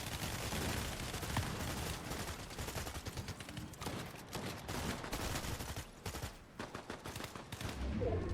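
Rapid bursts of SMG gunfire crackle through a Fortnite end-game fight on high ground, dense overlapping volleys with brief lulls, loud and sustained across the whole stretch with no one talking.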